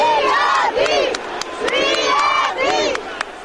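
Mourning crowd at a funeral procession breaking into bursts of applause and shouts, several waves of voices rising and falling close by over a murmuring throng.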